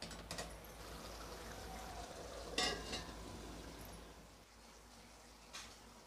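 Paneer biryani vegetable mixture cooking in a pan, a steady soft sizzle and hiss with a few brief louder scraping or stirring bursts, close and continuous.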